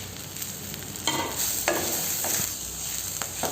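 Onion and sundakkai (turkey berries) sizzle and get stirred in a pan while chutney is being made. A steady close frying hiss runs throughout, with scraping spoon strokes now and then and no talking.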